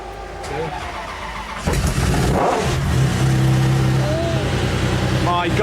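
A 900-horsepower car engine fires up with a sudden loud roar and keeps rumbling and revving close by, with a voice speaking over it.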